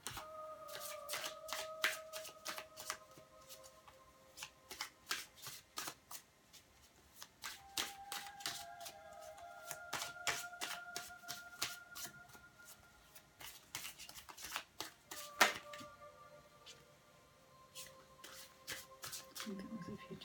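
Tarot cards are shuffled by hand in repeated bursts of crisp riffling and flicking, fairly quiet and close, with short pauses between rounds and a faint tone running underneath.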